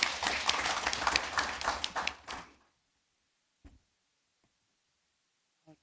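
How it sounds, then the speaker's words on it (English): A brief burst of audience applause for a presenter at a research workshop in Namibia, clapping from a modest crowd for about two seconds before fading into near silence with a few faint knocks. "Can we have a round of clap for her"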